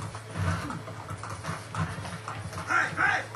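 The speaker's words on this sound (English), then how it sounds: "I like how my horse just tramples through everybody." Rhythmic hoofbeats of a galloping horse in the video game Assassin's Creed Brotherhood, several quick thudding strikes in repeating bursts, fairly close, with some muffled game background sound.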